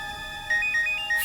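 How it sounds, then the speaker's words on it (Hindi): A phone ringtone plays a short electronic melody of bright, repeating beeps, clear and close in a quiet indoor room, with no one speaking. "उसी का फोन है।"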